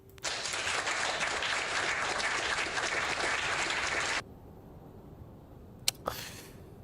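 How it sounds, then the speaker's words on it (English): A burst of studio-style applause plays for about four seconds, then cuts off abruptly, followed by quiet and a couple of brief clicks. "I'm giving you the applause."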